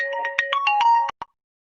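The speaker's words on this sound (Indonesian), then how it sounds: "Tuh tadi itu telepon." A phone ringtone plays a rapid series of bright melodic tones for about a second, then stops abruptly, with one last short chirp after it, loud and close, with no talking over it.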